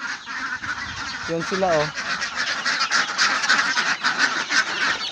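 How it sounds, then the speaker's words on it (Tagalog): A flock of three-month-old native ducks honks and quacks continuously and loudly up close, with someone talking briefly over the birds. "Yun po ang 3 months old po sa aking mga itik mga boss."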